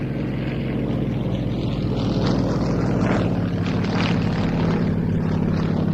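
A Yak propeller aircraft flies at an air show at Duxford, its engine drone loud and steady throughout.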